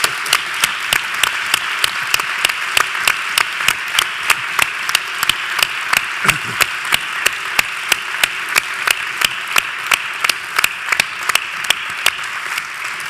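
Sustained audience applause at a book event, dense steady clapping with a few sharper individual claps standing out, loud and continuous throughout with no talking.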